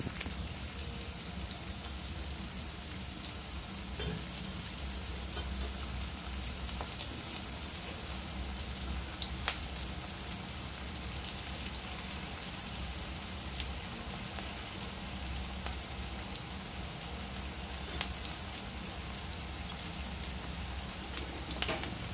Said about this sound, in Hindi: ये प्याज हमें इसके लिए थोड़ा सा नरम होते तक पकने देना है